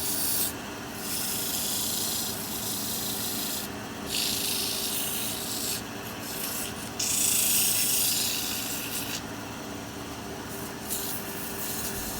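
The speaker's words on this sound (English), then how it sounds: "We're going to touch up with just a touch of sandpaper here." Steady hand sanding on wood, a continuous scratchy rubbing with slight surges in intensity as the paper moves back and forth, close and alone.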